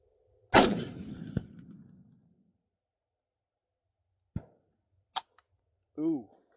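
A single sharp M1 rifle shot cracks out loud and close, its boom decaying over about a second and a half, followed later by a few faint metallic clicks and a short burst of voice.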